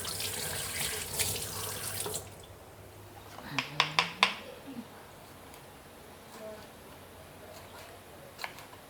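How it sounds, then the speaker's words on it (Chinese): Mild chili peppers rinsed under a running tap, a continuous splashing stream that stops, followed by a few sharp knocks and faint handling sounds in a quiet kitchen. "我洗一下，它就不会辣了。"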